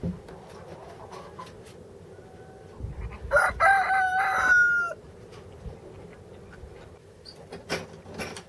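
A rooster crows loudly on a farm for about two seconds, surrounded by soft background clucking and faint farmyard noise with scattered clicks.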